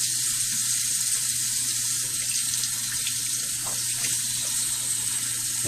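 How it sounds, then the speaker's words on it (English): Water runs from a tap over a shaving brush as soap is rinsed out, a steady close hiss of the stream with faint splashing throughout. "see how this brush smells. Rinsing the soap out."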